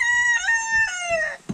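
A domestic chicken calls loudly and up close in a single drawn-out, strongly tonal cry that shifts pitch partway through and ends with a brief rough burst, with no talking.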